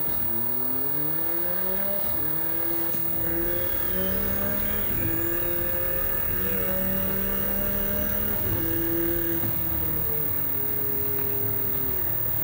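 McLaren Artura with a hybrid V6 engine driving in Forza Horizon 5, a steady loud engine drone that rises in pitch through repeated gear-change steps, close and continuous with no talk.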